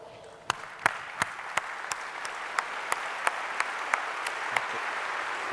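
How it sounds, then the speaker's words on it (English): A conference audience at a LeadingAge gathering stands and applauds, a broad steady wash of clapping with a few sharper claps standing out at regular intervals, holding moderately loud throughout. "please stand and signify your commitment with your applause."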